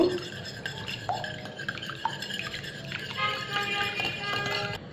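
Eggs with salt are beaten in a bowl with quick, continuous scraping and clinking strokes close by, plus a few brighter taps against the side.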